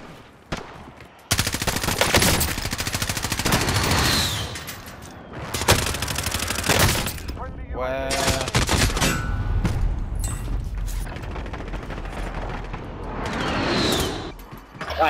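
The MG82 machine gun in Call of Duty: Warzone, long sustained bursts of rapid automatic fire at close range broken by short pauses, with no talk.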